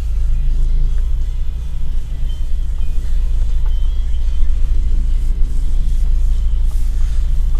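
A UAZ Patriot with an automatic transmission pulls away and drives through town, heard from inside as a loud, steady low engine and road rumble with no talking.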